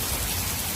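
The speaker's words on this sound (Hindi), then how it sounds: "ये देखिए भाई कितनी हेवी रेन हो रही है, बहुत तेज़ बारिश हो चुकी है इस वक्त तो भाई।" Heavy rain pouring down outdoors, a dense, steady broadband hiss of drops drumming on surfaces, loud and unbroken with no voices.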